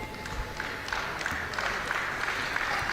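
A boxing crowd at an amateur tournament in a Sheffield arena applauds steadily, a dense wash of clapping with scattered louder claps. It runs for several seconds at moderate volume with no clear speech over it.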